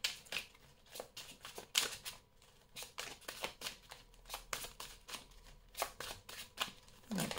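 Oracle cards are shuffled by hand in repeated crisp riffling bursts, close and fairly quiet, with faint speech in the background at moments.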